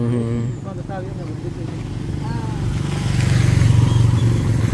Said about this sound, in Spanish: cuidado, viene moto atrás